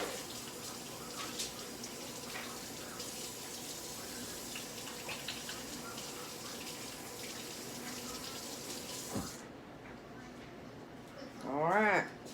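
Running water from a tap as dough is rinsed off hands, a steady moderate rush that cuts off near the end, with a person talking over it.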